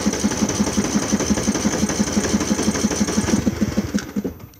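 A Craftsman riding lawnmower engine cranks over and catches, settling into a steady, fast, even putter close by that carries on to the end before dropping away.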